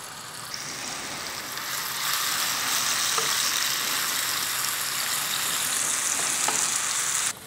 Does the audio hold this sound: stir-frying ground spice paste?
yes